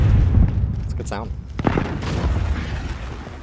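C4 explosive detonating in a shooter video game, a booming blast with crackling debris amid continuous gunfire and rumbling, with a voice talking over the loud mix.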